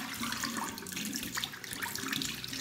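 Tap water runs into a sink while dyed pink hair is washed, a steady close splashing rush with small fluctuations throughout.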